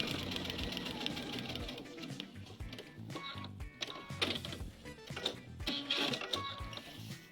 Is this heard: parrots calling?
no